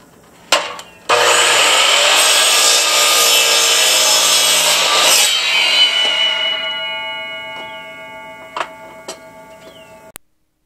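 Barnwood frame trim sawn at a 45-degree angle: a loud, steady blade run of about five seconds that winds down with a ringing tail, followed by a few sharp wooden knocks and a final click.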